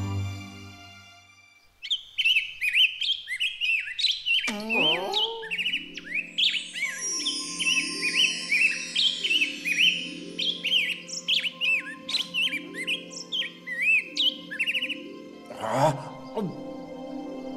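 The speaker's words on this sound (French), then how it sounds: "où est mon oiseau au chant si fabuleux?" A nightingale trills and warbles in an animated fairy-tale cartoon, a rapid run of bright chirps and sliding whistles that continues steadily over a soft musical backing.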